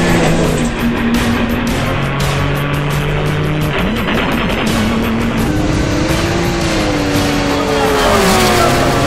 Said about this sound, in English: look at that Porsche, jumped off the line, super quick